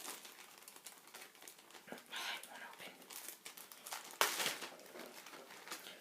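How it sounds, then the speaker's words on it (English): Plastic yarn bag crinkled while hunting for a skein of hand-dyed yarn, a few bursts of rustling crackle at close range, one sharper crunch partway through, with soft speech mixed in. "sorry for the crinkling"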